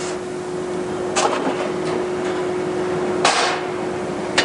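Shovel-forming machine at a True Temper hardware plant shaping square point round socket steel shovels, with a steady industrial drone and hum broken by two or three sharp metallic impacts and bursts.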